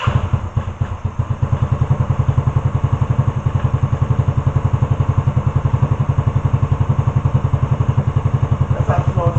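A motorcycle engine idles high right after its first start-up, a fast, steady, loud close-up chugging pulse throughout, with a voice talking briefly over it near the end.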